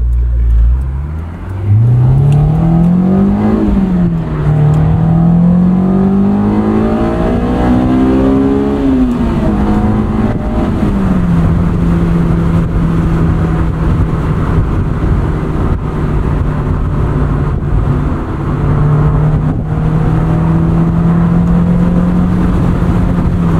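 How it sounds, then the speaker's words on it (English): A 2003 Honda S2000 with 19k miles revs hard through the gears, its engine note climbing, then dipping with sharp throttle blips on each downshift before settling into a steady drone from inside the car. "It's so satisfying to drive because you can nail every single blip, every downshift."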